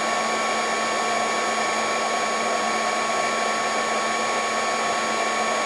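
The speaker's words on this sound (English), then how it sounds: "heat guns are one heck of a lot stronger than hair dryers." Steady loud blowing roar of a heat gun aimed at vinyl lettering on a floating ornament, continuous and close with a constant hum, no voices.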